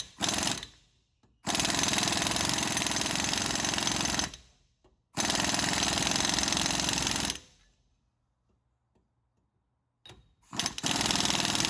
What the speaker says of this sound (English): I'm going to use an impact to help this thing along